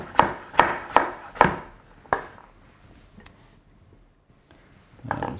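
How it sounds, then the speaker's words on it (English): A knife chops a carrot into small pieces on a cutting board, five sharp, evenly spaced thuds close up, then a quiet pause and one more chop at the end. "The carrot you can just chop into small pieces."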